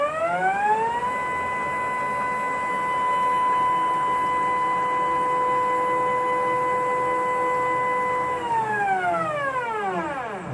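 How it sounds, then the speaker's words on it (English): A CNC machine on a test run drives its axes, giving a steady, loud whine of stacked tones that holds level for several seconds and then slides down in pitch as the motion slows, with no talking. "So that's all axes working, spindle is working"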